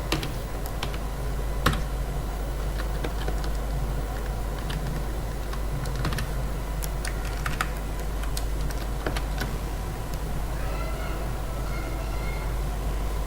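Steady typing on a computer keyboard while filling in an email sign-up form, with rapid close key clicks running throughout over a low constant background hum and no talking.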